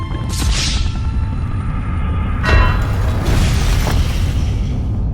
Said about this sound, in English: A nuclear blast from just a few miles away.